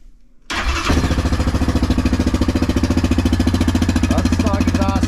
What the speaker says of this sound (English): So let's get this thing in park and we'll fire it up.